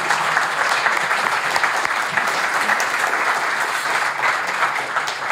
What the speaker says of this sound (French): des applaudissements en soutien à la rédaction du JDD